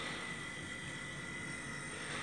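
Heat pump compressor rigged to heat a Lay Z Spa, running as a steady, dense mechanical drone with a constant high whine, even and unbroken throughout, fairly close with no talk.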